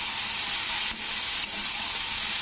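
Bottle gourd stems and potatoes fry in a pan for a poppy-seed dish, giving a continuous close sizzle with two soft scrapes of stirring.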